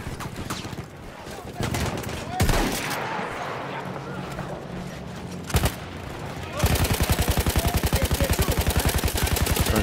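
Heavy gunfire in Battlefield 1 rattles on continuously, with scattered loud shots and booms giving way to a dense rapid machine-gun stream near the end.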